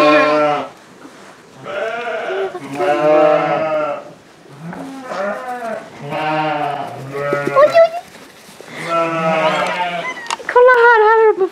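Sheep and newborn lambs bleat repeatedly at close range in a barn, wavering calls overlapping one another with short pauses between, and a few quiet human voices in the background.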